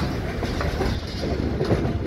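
A daily-running passenger train rolls along with a steady, broadband rumble and faint wheel clatter, loud and continuous throughout.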